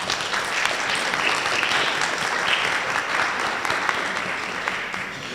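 Spellers at a school district spelling bee applaud their parents and families, a sustained round of crowd clapping at steady volume from start to finish.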